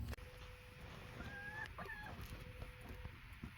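A broody hen gives faint, drawn-out tonal calls with a reedy, horn-like quality, a few soft notes over quiet background hiss.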